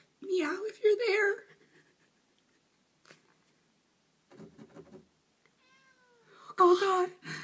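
A cat meows in a few short, separate calls, with nearby voices of girls calling out to it before and after.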